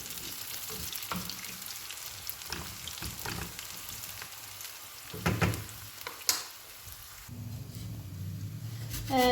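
Beetroot, ginger and garlic fry in a pan with a steady crackling sizzle, broken by a few louder clatters of stirring, then a denser hiss near the end.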